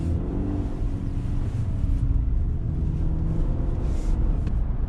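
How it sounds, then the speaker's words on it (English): A 2019 Chevrolet Silverado LT truck with a turbocharged four-cylinder engine pulls away under throttle, a steady close low engine rumble that swells slightly as it accelerates, with no talking. "The minute you hit the throttle and accelerate a little bit, you get that acceleration"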